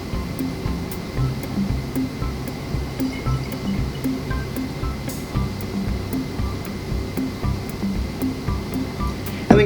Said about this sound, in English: we're going to take the hydrogen peroxide and we're going to pour it into our container.